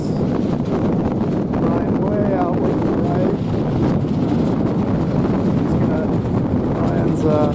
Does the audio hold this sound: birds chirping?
no